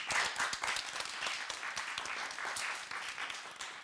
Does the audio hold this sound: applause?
yes